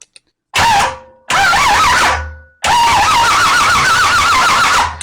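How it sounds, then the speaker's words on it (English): A Twin Turbo Chevrolet Nova engine cranks over on a portable jump starter in three loud, close bursts of wavering starter whine, separated by short pauses, with no voices. "So let's crank over the engine and see if this works."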